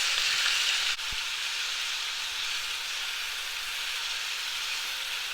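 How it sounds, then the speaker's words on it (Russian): Steady, loud sizzling of meat frying over high heat in a hot pan, a continuous hiss with a brief clink near the start. "Теперь повернем наше мясо."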